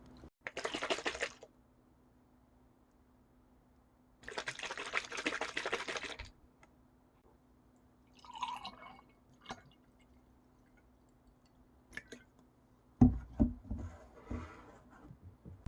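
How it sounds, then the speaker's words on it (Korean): Rice makgeolli from a 500 ml bottle poured into a cup, heard as two soft, steady bursts of pouring, followed by quiet gaps and a few light clinks near the end. "따를 때 부드럽게 맑은 느낌으로 잘 따라지고요."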